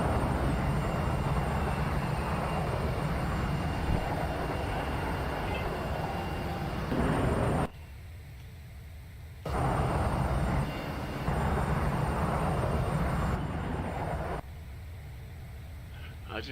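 A flight simulator airliner departing Cardiff, South Wales, gives a steady broadband roar that drops out sharply twice and then returns at full level.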